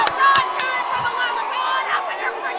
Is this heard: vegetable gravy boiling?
no